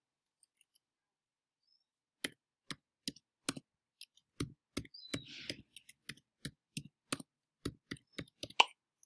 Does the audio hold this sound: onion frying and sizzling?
no